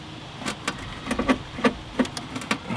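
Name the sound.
1967 VW Beetle engine cranking, running rough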